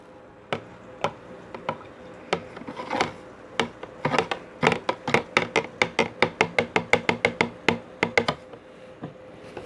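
Spoon clinking against a glass while stirring salt water for an egg float experiment, a long run of quick, bright taps growing faster and denser before slowing near the end, no voices.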